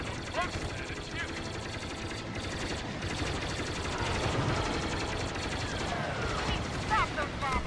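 Rapid starfighter blaster fire crackles in bursts over a dense, continuous din of space battle engines and explosions in Star Wars Battlefront II's Starfighter Assault on Endor, flying an A-wing; loud and sustained throughout.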